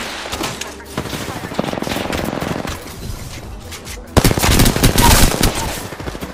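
Rapid C.A.R. SMG gunfire in the video game Apex Legends, dense automatic bursts crackling close and loud, surging heavier in the last couple of seconds, with other game noise and some voices mixed in.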